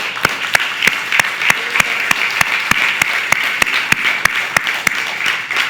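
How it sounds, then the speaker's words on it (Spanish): Church congregation at a Spanish-language worship service claps in unison, a steady rhythmic beat of sharp, even claps at roughly three per second, loud and close with a low murmur beneath. "Dale un aplauso al Señor."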